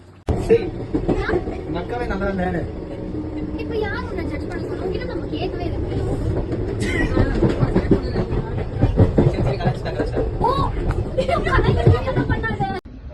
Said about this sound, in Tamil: எங்களோட ட்ரெயின் வந்துடுச்சு